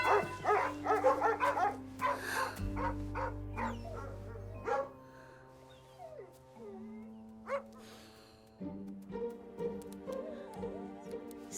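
Dogs bark and yip in quick bursts, close by, then scattered single barks and whimpers follow over a low background hum.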